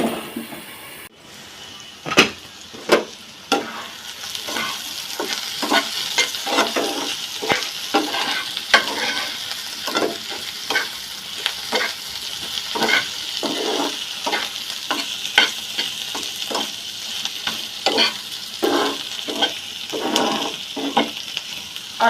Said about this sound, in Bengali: আসলে এইভাবে পেঁয়াজ ব্রাউন কালার করতে হলে কিন্তু অনেকটা লং টাইম লেগে যাবে